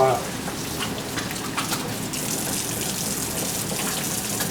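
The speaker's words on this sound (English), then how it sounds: "I'm just going to wash my hands up here" A tap runs steadily as hands are washed under it in a kitchen, a continuous splashing hiss that stays close and even throughout.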